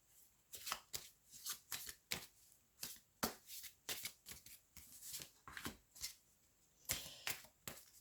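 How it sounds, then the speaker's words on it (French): Tarot cards being shuffled by hand, a quick run of crisp riffling bursts with short pauses between them, close and fairly quiet, no voice. "je vais maintenant continuer à brasser les cartes"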